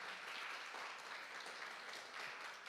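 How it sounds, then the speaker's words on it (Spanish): Church congregation applause, a continuous, diffuse patter of many people clapping, heard from a distance at low volume with gentle swells. "Denle un aplauso, por favor, muy fuerte a todos ustedes."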